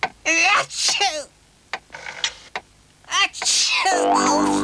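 Exaggerated sneezes in a 1980s UK TV cold-remedy advert, two loud voiced bursts set among speech and music, followed by a musical jingle.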